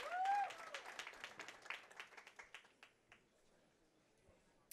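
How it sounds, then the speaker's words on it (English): A small crowd at the 2022 Junior Gold bowling championship applauds the U20 girls finalists, crisp scattered claps that start fairly loud, then thin out into sparse individual claps and fade to near silence. "How about a round of applause for our two finalists"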